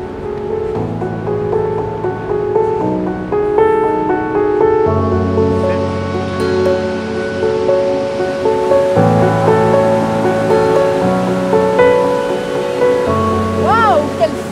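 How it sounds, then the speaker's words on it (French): Strong rushing water of an underground river inside the Vallorbe caves, swollen in flood, roars steadily throughout beneath a continuous layer of sustained tonal music. "c'est la rivière."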